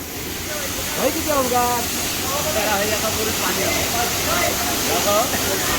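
Water from Chander waterfall near Malvan in the Konkan rushes as a constant broad hiss, with people talking and calling over the roar.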